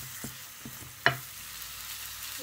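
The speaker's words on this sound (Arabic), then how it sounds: "نحمى مليح هذيك اللحم المفروم مع البصله" Minced meat and onion sizzle steadily in a hot pan, a soft continuous frying hiss punctuated by a few scraping stirs, one sharper clack near the middle.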